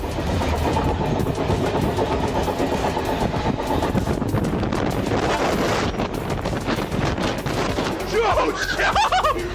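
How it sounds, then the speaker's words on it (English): A train roars past at close range, a loud continuous rush of wheels and wind buffeting, with brief voices near the end. "another train swept past her"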